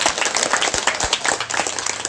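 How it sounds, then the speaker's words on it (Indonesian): At the launch of a school for the elderly, an audience claps in a steady, fairly close burst, individual hand claps standing out within the applause. "Tepuk tangan dulu."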